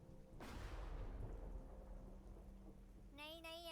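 Heavy rain pours steadily during a storm, with a deep rumble of thunder rolling through, loud and close, and a voice cuts in briefly near the end.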